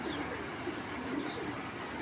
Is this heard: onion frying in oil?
no